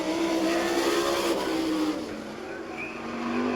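A sprint car on a qualifying lap around a dirt oval at Abbottstown, Pennsylvania, its engine droning loudly at high revs, easing slightly mid-pass then swelling again, with faint background crowd noise.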